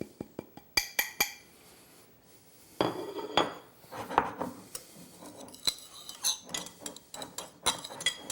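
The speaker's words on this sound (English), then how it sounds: "I'm just going to mix it all together." A utensil clinks and scrapes against a plate while sugar, dry mustard, cumin, coriander, curry powder, chili powder and salt are mixed together. Sharp, irregular taps and clicks come close up, with short quiet gaps and no talking.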